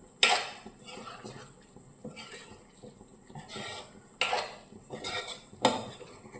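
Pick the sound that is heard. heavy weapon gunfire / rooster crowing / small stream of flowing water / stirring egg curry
stirring egg curry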